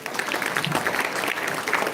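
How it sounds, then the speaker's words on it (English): An audience at an international conference opening gives a round of applause, continuous mid-level clapping from many hands throughout, with no voices standing out. "All of you give a huge round of applause."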